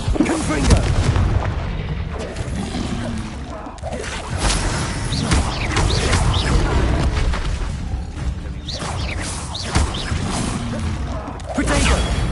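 Confringo spell explosions in the video game Hogwarts Legacy, a run of loud booms and blasts with whooshing casts that repeat every few seconds over a rumbling battle background.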